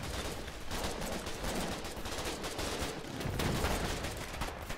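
Dense, continuous gunfire from a Foxhole battle, a steady wash of overlapping shots and machine-gun bursts filling the whole stretch at a fairly even loudness, with no talk.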